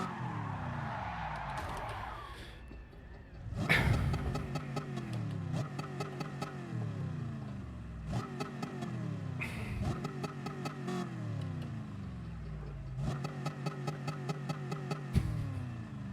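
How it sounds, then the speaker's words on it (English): Race car in Gran Turismo 7 spinning out on track, with loud engine revving and repeated tire skids in several bursts, then dropping back to engine drone. "Because my car spun out and it's now stopped."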